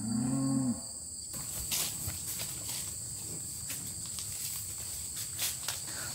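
Huge cows in a field give one deep, loud moo at the very start, then a steady outdoor hush of insects and light rustling carries on without voices.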